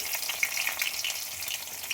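Boiled new potatoes frying in oil in a wok give a steady, close hiss and sizzle with small crackling pops, heard alone without talk.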